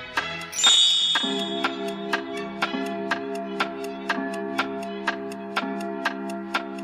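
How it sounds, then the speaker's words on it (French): A chime rings out once and is followed by a clock's regular ticking, crisp evenly spaced clicks about every half second over a sustained, ringing low tone, close and clear with no talk. "L'horloge sonna 5 heures"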